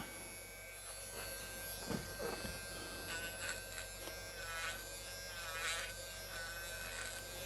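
Steady electric buzz of a buffing wheel motor polishing an airbrush needle, a continuous whine with small rises as the needle is pressed against the wheel, fairly quiet and close.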